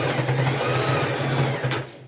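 A sewing machine backstitches on a TNT-based fabric patchwork rug, a steady close motor hum with even needle rhythm that runs for about two seconds before easing off at the end.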